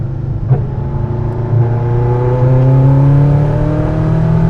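A Ferrari F40 LM engine drones steadily close by, its pitch rising as the throttle opens, easing off and then climbing again across several seconds.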